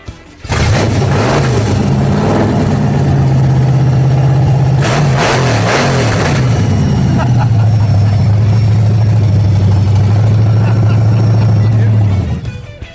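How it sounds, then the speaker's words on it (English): A supercharged Chevy Impala engine fires up loudly and close, revs hard a few times with sharp rising bursts, then settles into a heavy, steady rumbling idle before cutting off. "That's what it sounds like when you have the whole motor attached."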